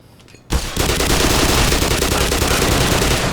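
Dense, sustained automatic gunfire from the Black Mesa video game, a loud continuous barrage of rapid shots that erupts after a brief quiet start and keeps hammering without pause.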